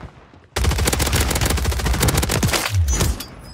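An AMR 9 submachine gun fires in Warzone 3. A loud, close burst of rapid automatic fire starts suddenly and runs for about three seconds before stopping.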